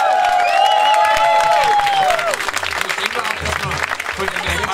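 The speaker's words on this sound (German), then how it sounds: "gibt jetzt mal Applaus!" A live audience bursts into loud, sustained clapping and cheering after a sung song, with a few whistles and voices rising over the applause.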